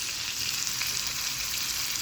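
Steady, dense sizzle of onion and garlic frying in butter, a continuous crackling hiss with no talk, close and fairly loud throughout.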